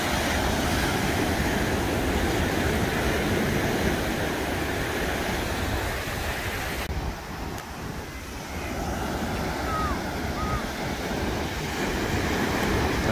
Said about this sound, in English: I could sit here and listen to the waves all day.